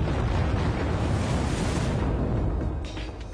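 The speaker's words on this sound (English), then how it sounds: "We can come close to supernova explosions." A dense, roaring rumble like a massive supernova explosion, sustained and loud, fading slightly toward the end.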